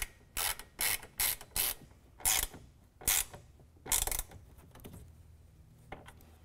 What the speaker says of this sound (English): we're going to thread that into that hole in the rail